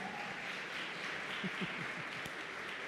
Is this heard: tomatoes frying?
no